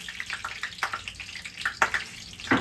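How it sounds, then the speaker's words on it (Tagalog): Hot oil spattering and popping while banana maruya fries in a pan: irregular crackles and sharp pops in quick succession, close and moderately loud with a soft sizzle underneath. "nagliparan ang mantika"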